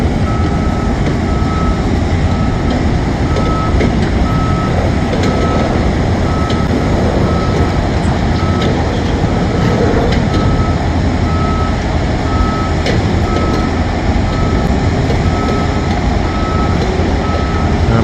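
A truck at a stadium construction site sounds its reversing alarm, a steady series of evenly spaced beeps over a continuous rumble of heavy machinery and site noise.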